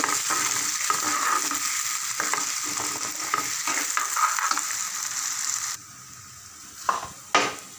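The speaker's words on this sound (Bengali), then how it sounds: "মশলাটা ভালো করে কষিয়ে নেব।" Onion and spice masala for a prawn fritter curry fries in a pan with loud, continuous sizzling and scraping stirs for about six seconds, then the sizzle drops away, leaving quieter hiss and a couple of sharp metal clanks.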